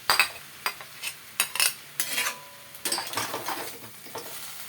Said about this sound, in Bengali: এখন আমি ভাজা মাছের মুড়াটা দিয়ে দিই